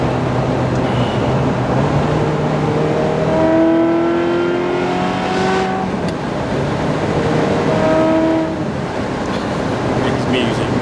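A Ferrari F355 engine revs in rising, sweeping harmonic climbs, two main pulls around a steady throaty drone, loud and close, with some talk or background mixed underneath.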